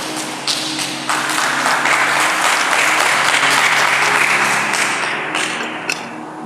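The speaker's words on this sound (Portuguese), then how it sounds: "Quem pode aplaudir Jesus, o Rei da Glória?" A church congregation applauds together, a dense, loud wash of clapping that swells within the first second and holds steady for several seconds before thinning slightly near the end.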